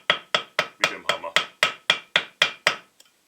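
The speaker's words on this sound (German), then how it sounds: "3 dezente Schlägchen" Light hammer taps seat a valve stem seal on a Porsche 944 S2 cylinder head: about eleven crisp, close metallic knocks in a steady, even rhythm, then silence.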